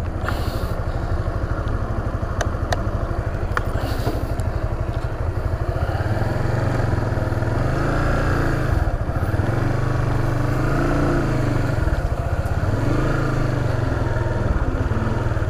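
A Honda Supra GTR 150 motorcycle rides off-road on bumpy hill terrain, its engine droning steadily and loudly up close with rising and falling revs and occasional clatter from the chassis.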